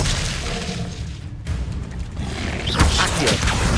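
Expelliarmus disarming spell cast in the video game Hogwarts Legacy, a booming magical blast followed by mechanical creaks and shattering debris, loud and continuous over a dense game soundscape.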